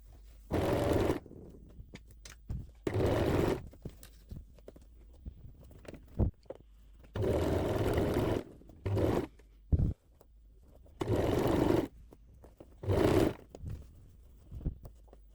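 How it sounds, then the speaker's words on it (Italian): A sewing machine stitches the armhole of a dress to its lining, running in short separate bursts of rapid whirring stitching with quiet pauses between, close and fairly quiet. "li fisso con gli spilli e cucio con margine di 1 centimetro"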